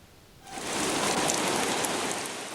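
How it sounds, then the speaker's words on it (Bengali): Heavy rain swells in after a quiet moment, becoming a dense, steady downpour hissing loudly on surfaces. "বিরতিহীন তুমুল বৃষ্টি"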